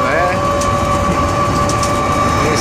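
A fast train, running at about 130 km/h through snowdrifts near Aytos, passes with a loud continuous roar and rumble plus a steady tonal whine, with brief voices underneath.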